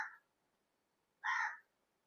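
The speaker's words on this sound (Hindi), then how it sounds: "ये क्या, वहां पे कौवा है" A crow caws twice outdoors, with a short caw at the start and a fuller one about a second later, both faint and fairly distant against near silence.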